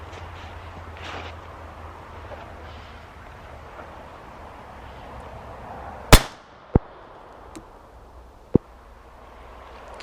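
A Beretta 950 BS Jetfire .25 auto pistol firing at headshot targets, with one sharp loud crack followed by a few quieter, sparse reports over a low ambient background.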